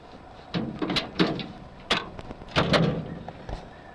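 The rear of a 1-ton big-block four-speed Chevrolet Suburban is opened with a series of sharp metallic clunks, latch clicks and thumps, several distinct hits spread over a few seconds, close by with no talking.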